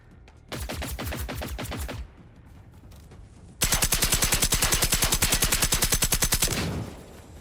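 Rapid bursts of autocannon fire from a hostile machine in the video game Generation Zero: a loud rhythmic volley of a second and a half, a brief pause, then a longer, steadier stream of heavy shots lasting about three seconds.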